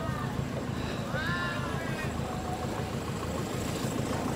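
A Kubota M6142 tractor idles at an outdoor agricultural show in the rain, giving a steady, continuous low engine rumble with faint higher whining tones drifting above it.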